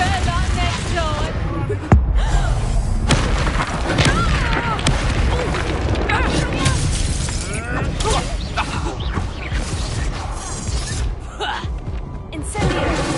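Incendio and Reducto spell blasts in the video game Hogwarts Legacy: a continuous barrage of bursts, shattering crashes and thumping impacts layered with game music, under speech.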